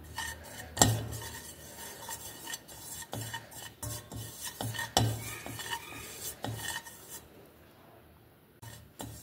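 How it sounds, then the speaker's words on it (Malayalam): Spice powders mixed by hand in a bowl for a bitter gourd dish, giving soft scraping and rubbing with a few sharper clinks against the bowl, steady and close, no voices. "കൈകൊണ്ട് തന്നെ നമുക്ക് മിക്സാക്കാം."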